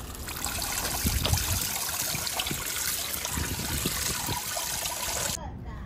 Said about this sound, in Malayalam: അപ്പോൾ ചേനയും ഒക്കെ ഒന്ന് കട്ട് ചെയ്തെടുത്തിട്ട് നമുക്കിത് നന്നായിട്ടൊന്ന് കഴുകിയെടുക്കാം